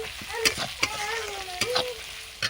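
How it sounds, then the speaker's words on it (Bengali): Turmeric and cumin powder frying in a pan, a steady sizzle broken by a few sharp stirring scrapes, with a thin tonal background running underneath. "দিয়ে দেবো হলুদ গুঁড়ো, জিরে গুঁড়ো, ভালো করে মশলা আমি কষিয়ে নেব"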